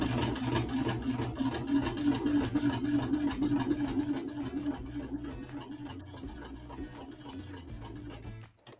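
A sewing machine stitches fabric at a steady fast pace, running a few stitches in reverse and then forward, with a continuous close whirring and rapid needle clatter that slows and stops at the end.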